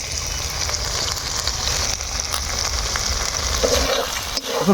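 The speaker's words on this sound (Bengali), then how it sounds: "জল দিয়ে মানে ভালো করে মশলাটা কিন্তু কষিয়ে নিব আর ঠিক একই সঙ্গে দিব নুন আর হলুদ গুঁড়া" Masala sautéing in oil with a little water, salt and turmeric for a chicken-scrap and taro-leaf dish: a steady, close, dense sizzle and crackle that runs the whole time with faint stirring, no voices.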